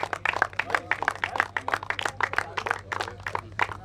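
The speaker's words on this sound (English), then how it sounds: "Can I have a round of applause to each and every team?" A crowd at a prize distribution ceremony for a sports tournament claps steadily for the teams, dense, even applause filling the room without speech.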